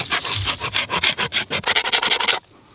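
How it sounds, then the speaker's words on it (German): Back of a cheap folding saw scraped along tree bark, giving a loud, close, rapid rasping stroke after stroke, fast and irregular, then stopping abruptly into near silence. "Also Feuerstahlbedienung oder dem Abarbeiten von Rinde mit dem Sägerücken."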